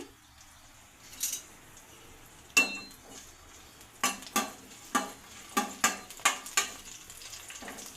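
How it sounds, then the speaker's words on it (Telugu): Green chillies fry in oil in a kadai over a faint, steady sizzle, while a utensil knocks and scrapes against the pan in a run of sharp, close clacks that grow quicker toward the end. "కడాయిలో సరిపడే ఆయిల్ పెట్టుకుని పచ్చిమిర్చి వేయించుకోవాలండి"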